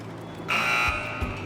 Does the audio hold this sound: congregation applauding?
no